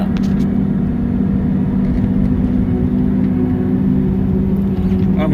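A vehicle engine drones in a loud, steady low rumble with an even whir, continuous and close throughout, as it drives through snow toward a felled aspen.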